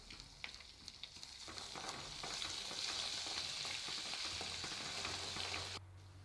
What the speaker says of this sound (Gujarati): બાફેલા લોલીપોપને તેલમાં ફ્રાય કરવા મૂકી દેવાનું